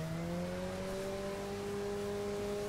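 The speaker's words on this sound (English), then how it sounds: "bit of wheel spin, very slow third gear apparently" Mazda MX-5 circuit spec in The Crew racing game, engine droning steadily with a slowly rising pitch as the tires spin, a continuous loud buzzing tone with no voices.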